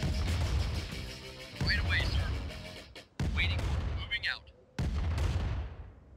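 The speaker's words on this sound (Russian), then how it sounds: "Друг друга взрывают, вот в чем дело." Explosions and gunfire from a Command and Conquer Remastered battle, with rumbling booms and crackling shots in dense bursts, broken by brief sharp cutoffs, while someone talks over the action.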